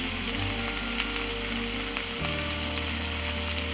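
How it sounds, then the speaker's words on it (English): Spices, cumin and turmeric powder, shallow frying in oil for maqlooba, a steady close sizzle with crackling throughout, a low stirring thump shifting partway through. "Remember, you just need to do shallow fry."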